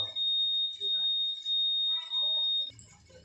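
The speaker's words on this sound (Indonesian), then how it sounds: "Alarm motor." A continuous high-pitched electronic motorcycle alarm tone sounds steadily for a few seconds, with people talking over it, then it cuts off.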